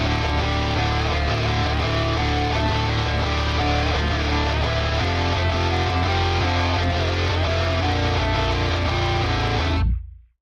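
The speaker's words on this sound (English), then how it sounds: "And then my solo guitars sound like this." Distorted solo electric guitar lines ring out loud and continuous over a thick, saturated bed of sustained notes, playing for about ten seconds before fading quickly to silence.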